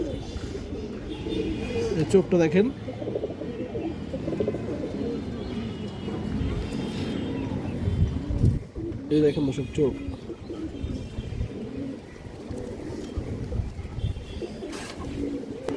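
Pigeons coo softly in a pigeon market, including a fine chila female pigeon, with low throaty calls rising now and then over steady background noise while someone talks close by.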